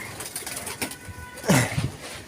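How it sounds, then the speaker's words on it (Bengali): Quails scurrying and hopping about in a rooftop farm, with soft scuffling and a brief burst of fluttering wings near the middle. The birds are close and moderately quiet. "এমনিতে কোয়েল পাখিগুলো অনেক ছুটে লাফালাফি করে।"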